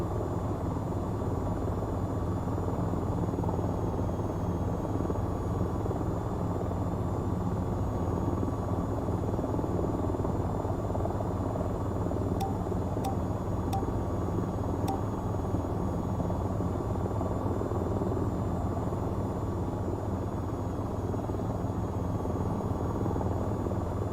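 Attack helicopter in the VTOL VR game, flying over desert: a steady, loud rotor and engine drone runs throughout with a constant low throb and a few faint high clicks near the middle.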